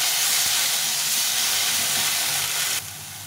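Fish sautéing in a pan with turmeric and chili powder gives a loud, dense, continuous hiss and sizzle that stays steady before dropping slightly near the end, with no voices.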